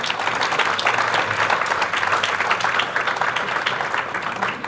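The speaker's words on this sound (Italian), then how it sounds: "quindi gli facciamo un applauso." Audience applause at an evening talk event in Italy, a warm, steady round of many hands clapping that fills the room for several seconds without speech.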